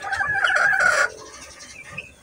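Chickens on a game farm cluck and crow close by, one bright crow rising loudly for about a second before fading into softer clucks and barnyard noise.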